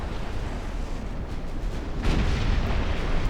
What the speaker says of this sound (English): We're basically going to be firing broadsides at each other here